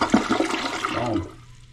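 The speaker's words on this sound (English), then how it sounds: "Let's give it a flush." A newly installed toilet flushes with a loud rush of water at close range, the flow swelling and then draining away into a quieter gurgle within about two seconds.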